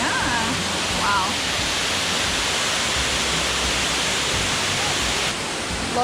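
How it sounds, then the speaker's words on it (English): Steady, dense rush of water from Florida's highest waterfall, 73 feet tall, filling the scene at close range, with brief faint voices near the start. "Florida's highest waterfall."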